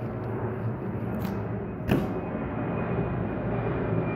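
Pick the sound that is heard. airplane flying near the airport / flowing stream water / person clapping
airplane flying near the airport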